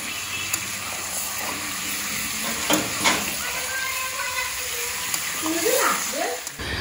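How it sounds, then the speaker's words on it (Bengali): Onions and mutton frying in a pot give a steady sizzle with occasional stirring scrapes, and a voice talks faintly over part of it. "পেঁয়াজ ভেজে তারপরে মাটনটাকেও একটুখানি ভেজে নিচ্ছি"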